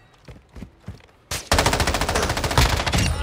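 Rapid automatic fire from an M13B rifle in a first-person shooter video game, a loud dense burst of close shots after a few scattered softer thumps at the start.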